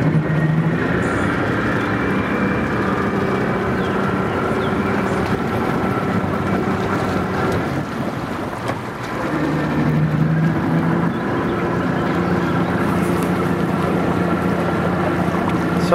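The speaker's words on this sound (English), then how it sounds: "I was driving a boat" A boat under way, its engine droning steadily with broad wind and water noise over the microphone throughout, briefly dipping midway before resuming at the same level.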